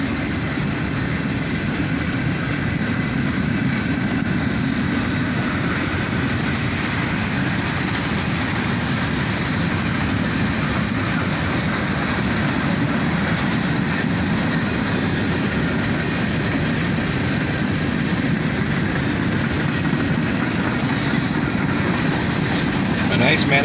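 A CSX manifest freight train led by a pair of GE AC44CW locomotives, built in 1999 and 2002, rumbles past steadily and loudly for the whole stretch, with continuous wheel and car noise and no break.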